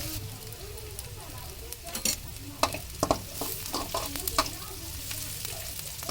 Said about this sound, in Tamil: நம்ம நல்லா கிளறி விடணும், வதக்கணும். எண்ணெயில் நல்லா வதங்கணும்.